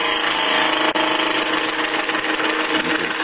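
A woodturning chisel rides its bevel while cutting spinning wood on a lathe, a continuous loud hissing scrape over the steady motor hum, close and unbroken.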